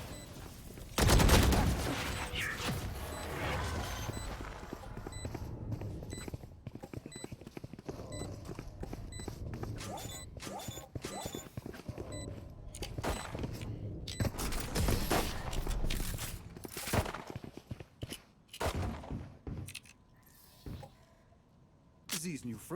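Dense, rapid gunfire from a multiplayer shooter game round, with bursts of automatic fire and scattered single shots continuing throughout, loud and busy with overlapping game sound, while a player talks over the action.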